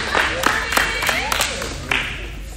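An audience claps in a quick burst of sharp, close hand claps that thin out over a couple of seconds, with voices talking over it.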